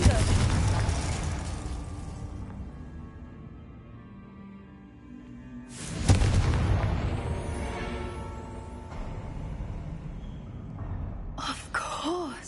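Confringo blasting spell in Hogwarts Legacy: a loud burst at the start that decays over a couple of seconds, a second heavy boom midway with a ringing tail, then a brief fizzing whoosh near the end.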